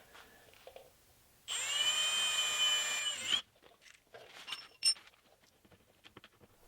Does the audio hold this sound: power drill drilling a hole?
yes